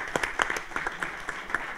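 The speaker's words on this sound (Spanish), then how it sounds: "un aplauso para ellos" An audience at a live concert in Sala SCD Egaña claps in a brisk, uneven burst of applause, moderately loud and close, with a hint of voices underneath.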